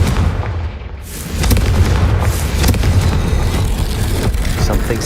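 A Confringo fire spell in Hogwarts Legacy goes off as a deep, booming blast, followed by a sustained low rumble and crackling that carries on loudly for several seconds.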